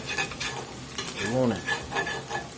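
Blackening seasoning sizzling and sticking on the bottom of a pot for hamburger soup, stirred with steady scraping strokes over a constant sizzle, close up.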